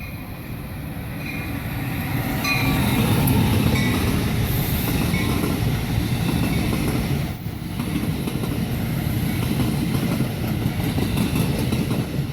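New Jersey Transit and Amtrak trains rumble steadily past on a four-track main line at close range, a continuous heavy roar of wheels on track with faint metallic squeals above it.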